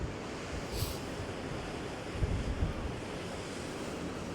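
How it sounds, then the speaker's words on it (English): Large ocean surf breaking on the coast by abandoned tin mines, a dense, loud roar of waves mixed with heavy wind buffeting the microphone, with a few low surges rising out of the steady wash. "Oh, look at that massive wave out there."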